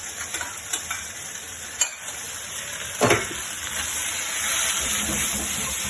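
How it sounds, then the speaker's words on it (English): Sweet and sour pork sizzling steadily in a hot pan as it is stirred, with a continuous frying hiss and occasional scrapes and clinks of the utensil against the pan. "And hear that sizzling away"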